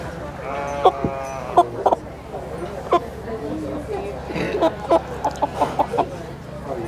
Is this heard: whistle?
no